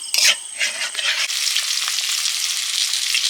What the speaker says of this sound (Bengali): প্রথম রাউন্ড মাছ ভাজা হয়ে গেছে আর কয়েকটা আছে ভেজে নেব